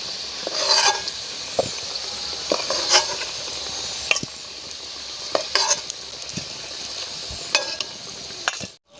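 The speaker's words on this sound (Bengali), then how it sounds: "আমার আলু ভাজা হয়ে গেছে, আমি এবার তুলে নিচ্ছি" Fried potatoes lifted piece by piece from sizzling oil in a village-style home kitchen, steady close frying hiss with clinks and scrapes of a utensil against the pan every second or so.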